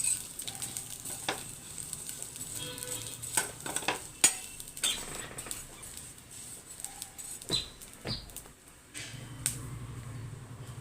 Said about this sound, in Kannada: ಈಗ ಅದೇ ಪ್ಯಾನ್ನಲ್ಲಿ ಸ್ವಲ್ಪ ತುಪ್ಪ ಹಾಕಿ ಶಾವಿಗೆಯನ್ನು ಹಾಕ್ತಾಯಿದ್ದೇನೆ.